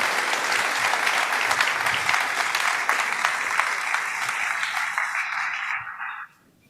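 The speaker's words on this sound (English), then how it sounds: "let's give a round of applause to welcome NATO Secretary General Jens Stoltenberg to the stage." A large audience at the 2023 NATO Youth Summit in Washington, D.C. gives a steady, dense round of applause welcoming the NATO Secretary General onstage, holding strong before stopping abruptly.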